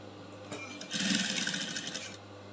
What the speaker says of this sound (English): So I'm sewing in into the bodice right now, and I'll back stitch